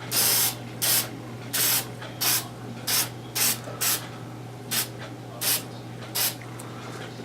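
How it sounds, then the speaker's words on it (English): An aerosol spray can of olive drab paint is used on a scale model, a series of about a dozen short, loud hissing bursts in a steady rhythm with brief pauses between, close up and without speech. "Now I'm going to cheat on this and use spray can."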